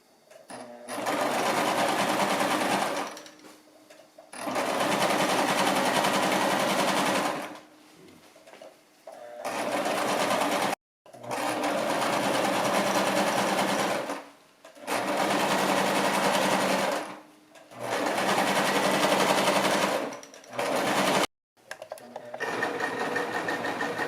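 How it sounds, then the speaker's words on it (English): Sewing machine stitching the lining of a denim purse made from old jeans, running in several steady bursts of a few seconds each with short pauses between, close and loud with no talk over it. "Okay, we're going to start sewing our lining."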